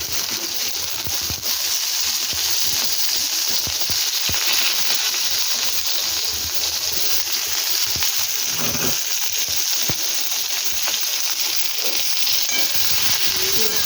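Onions and eggplant frying in a little oil with cumin seeds, a steady close sizzle with crackles and occasional stirring scrapes, continuing unbroken for the whole stretch with no talking.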